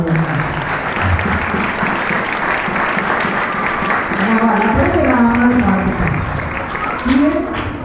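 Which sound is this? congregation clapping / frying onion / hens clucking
congregation clapping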